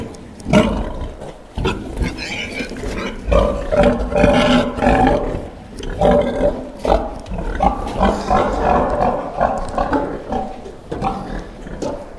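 A sow, agitated after farrowing, gives loud, harsh grunting roars at close range in repeated bursts, with short pauses between them.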